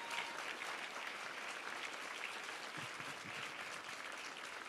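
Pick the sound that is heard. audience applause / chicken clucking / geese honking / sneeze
audience applause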